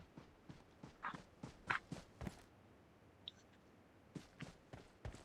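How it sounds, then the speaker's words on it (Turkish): Footsteps in the shooter game PUBG Mobile patter in a quick run of sharp thuds, pause briefly, then resume. They sound close and clear over a quiet background. "Ayak sesi geliyor bir numara."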